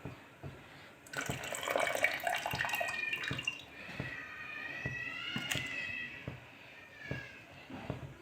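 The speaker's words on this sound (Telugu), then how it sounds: "ఇప్పుడు చింతపండు రాసం పోసుకుంటున్నాం" Tamarind juice is poured into sambar in a pot, a close, gurgling liquid pour that rises and ebbs in uneven streams, with light clinks scattered through.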